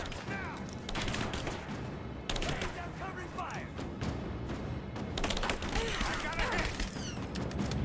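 Gunfire in Rise of the Tomb Raider, with bursts of rapid shots repeating across the whole stretch over a busy game soundscape, fairly faint overall.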